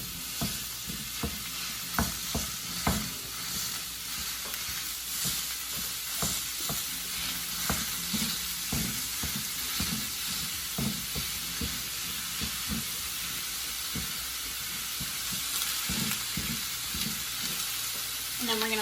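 Ground beef with onions frying in a pan for pâté chinois, with a constant sizzle and hiss broken by repeated scraping, mashing strokes of a utensil, close and steady.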